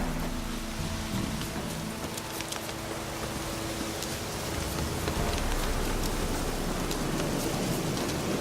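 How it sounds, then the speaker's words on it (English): Rain falls steadily in The Witcher 3, a dense hiss of drops pattering on surfaces that swells slightly louder partway through, with a low rumble underneath and no talking. "Looks like rain."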